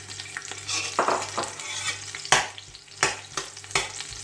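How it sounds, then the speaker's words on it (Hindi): A large chopped onion frying in hot oil for mutton yakhni pulao crackles and sizzles up close, with repeated louder bursts as it is stirred and no talking. "एक बड़ी प्याज काट कर रखी हुई है, ये इसमें ऐड कर दूंगी, और इसको फ्राई करूंगी"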